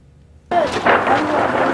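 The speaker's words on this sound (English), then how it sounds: "These schoolboys don't even flinch at the sound of gunfire." Gunfire in Iraq breaks in suddenly after half a second of near silence, a loud sharp crack followed by sustained rumbling noise and further reports, with faint voices underneath.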